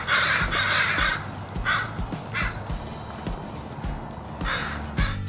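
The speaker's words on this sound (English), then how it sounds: "catching the attention of some crows that were passing by" Several passing crows give loud, harsh caws in bursts with short gaps between, fairly close, over a steady outdoor background.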